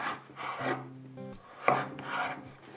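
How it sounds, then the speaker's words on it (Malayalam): A knife cuts potatoes into large pieces for an oven-baked Turkish chicken dish, making close, rasping strokes through the flesh in slow repeated passes. One sharper knock lands on the board midway, and nobody speaks. "പൊട്ടാറ്റോ കട്ട് ചെയ്യുമ്പോഴത്തേക്ക് കുറച്ച് വലുതായിട്ട് കട്ട് ചെയ്യുക"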